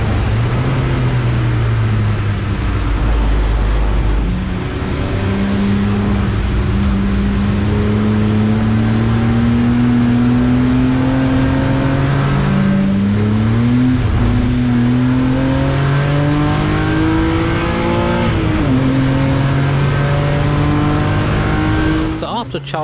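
A race car engine on a wet track revs loud and close the whole way, its pitch climbing and dropping through repeated gear changes, with brief tire noise and a voice talking over it.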